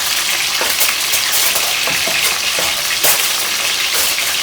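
Country-style chicken frying in a pot, a steady loud sizzle and crackle of hot oil with scattered pops running throughout, close up and alone without talk.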